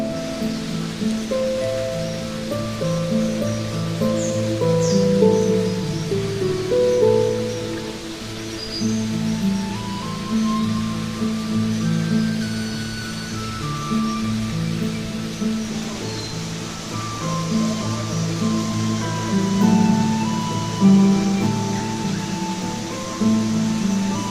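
Steady rain and rushing water from a nearby waterfall in an Odisha forest fill the air in a continuous wash, with faint birds and insects in the background.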